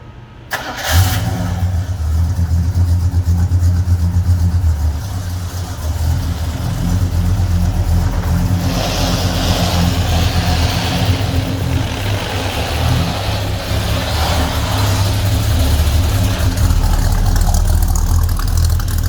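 A 1967 Oldsmobile Cutlass engine cranks and catches, then settles into a loud, deep V8 rumble that swells as the car pulls away and drives, heard close and steady with no voices.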